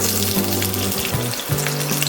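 Mustard seeds, asafoetida and green chili tempering in hot oil, a steady dense sizzle with crackling pops, close and continuous throughout.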